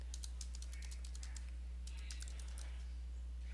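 Fingers tap a computer keyboard in two quick bursts of close, light clicks, separated by a short pause, over a steady low electrical hum.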